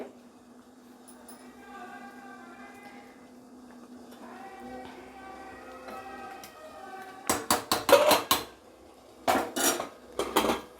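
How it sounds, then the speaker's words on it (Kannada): A pressure cooker used for avarekalu (hyacinth bean) rice bath is handled on a home kitchen stove, with faint ringing metal and stirring sounds followed by a cluster of loud, sharp metallic clanks as the lid is fitted and locked shut. "ಕುಕ್ಕರ್ ಮುಚ್ಚಳನ ಕ್ಲೋಸ್ ಮಾಡಿ ನಾನಿವಾಗ ಇದನ್ನು 2 ವಿಸಿಲ್ಸ್ ಬಿಡ್ತೀನಿ."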